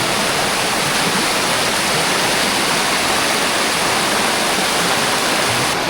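Steady, loud rush of river water flowing along a hiking trail, a continuous broadband roar with no break, heard alone.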